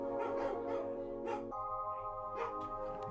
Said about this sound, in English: Doggo go woof.